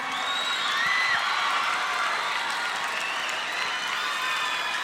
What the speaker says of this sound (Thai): ขอเสียงปรบมือให้คุณต๋องชวนชื่นด้วยครับ